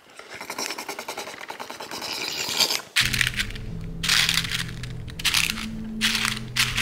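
Cakes pressed and smushed down before frosting, a close run of soft crunching and squishing that grows louder, then a series of squelchy pressing bursts over a faint humming tone.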